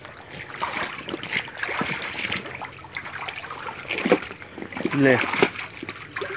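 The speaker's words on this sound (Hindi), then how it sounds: "ये दोस्तों इसे मैं पानी में भिगो रहा हूँ" Water sloshes and splashes as a jute sack is pushed down and soaked, close by, while someone speaks in Hindi over the wet sounds.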